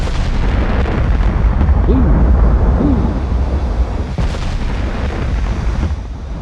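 Warship naval guns firing in the naval battle game Ultimate Admiral: Dreadnoughts make loud, rolling booms over a dense, rumbling background of continuous battle noise, with one sharper blast standing out partway through.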